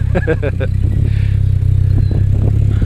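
A Honda D16Z6 engine idles steadily and loudly on its first start, a dense low rumble throughout with a brief clattery burst near the beginning.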